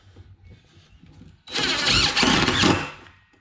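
A power driver sinks a self-tapping screw into the metal-backed wall of an enclosed toy hauler trailer: a loud, harsh whirring and grinding burst of about a second and a half that follows a quieter stretch of faint background noise.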